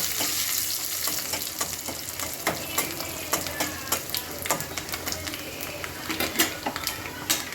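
Panch phoron and dried chillies fry in oil alongside browning onions, a continuous sizzle dotted with sharp crackles and pops from the seeds, with faint stirring.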